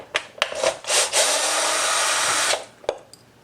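A power driver whirs for a couple of seconds removing plastic thread-cutting screws from the rear plastic shell of a 2017 SSR Razkull 125 motorcycle, with clicks and knocks before and after the run.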